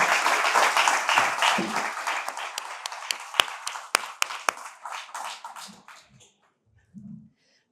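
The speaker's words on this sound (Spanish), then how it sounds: "un aplauso para él" Applause from a seminar audience welcoming a guest speaker, a dense burst of clapping with a few sharp individual claps standing out, fading out over several seconds to near silence.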